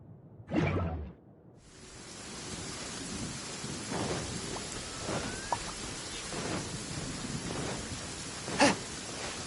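Steady rain falls throughout in the video game Genshin Impact, with a sharp whooshing burst near the start and a brief crack close to the end over the constant patter.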